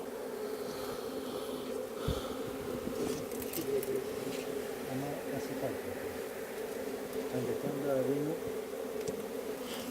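Honey bees buzz steadily around an open hive as a beekeeper works it, a dense continuous drone under someone talking.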